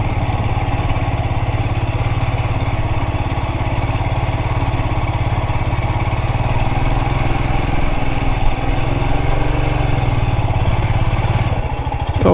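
A Royal Enfield Himalayan 411 motorcycle climbing a sandy trail uphill, a steady chugging single-cylinder engine drone at close range, constant and loud throughout.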